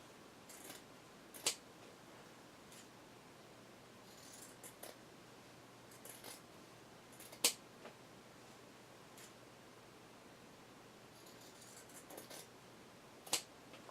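Scissors trim the top and bottom edges of a fabric and lace doily album, heard as a few faint, separate snips spread out over quiet room noise.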